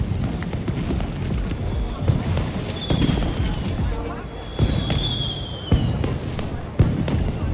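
Holographic fireworks in the game Beyond a Steel Sky pop and thump in a scattered run of sharp bursts with faint rising whistles, while a voice talks over them.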